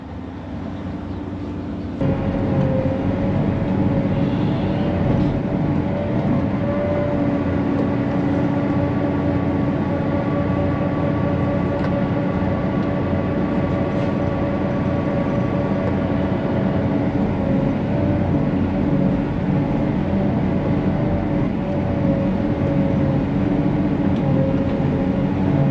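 A loud, steady mechanical roar of a forage harvester chopping barley silage drones on continuously after a brief quieter start, with a constant engine hum.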